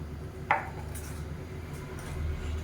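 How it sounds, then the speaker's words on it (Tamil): A spoon stirs protein chutney in a bowl, giving a single sharp clink early on followed by soft, faint scraping and a last light tap, with no voices. "இப்போ நல்லா கலந்து விட்டுக்கலாம்"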